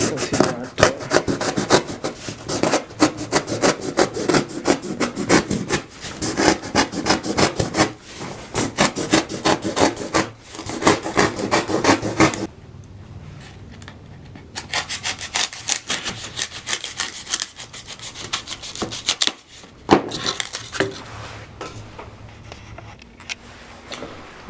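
A sharp knife cuts cardboard box material along a marked line, heard as a long series of close, rough scraping strokes, dense at first and then sparser and quieter.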